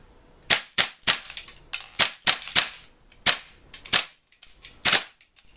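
A Tokyo Marui MP7 airsoft gun fitted with a Sound Hog attachment fires about a dozen sharp, cracking single shots in an uneven rhythm, loud and close, with short quiet gaps between pops and no talking.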